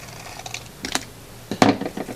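Scissors cutting folded paper along the fold, a few quiet crisp snips and rustles, the last snip the loudest, with no talking.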